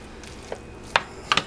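Warm rice broken up in a pan for steak fried rice, three or four short scraping taps of a utensil against the pan, close and distinct over a quiet background.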